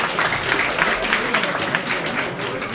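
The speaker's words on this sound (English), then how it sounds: "people applauded Misha so loud here" Listeners at a project presentation event applaud loudly and continuously, a dense wash of clapping with a few voices mixed in.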